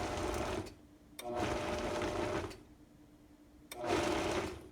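A blending bowl chops and purees cut apples into a fine mash, heard as three fairly quiet bursts of steady motor whirring separated by short pauses.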